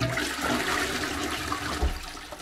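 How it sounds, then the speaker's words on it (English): A hotel bathroom toilet flushes, a loud rushing swirl of water that holds steady for a couple of seconds, close by with no talking. "Good flush."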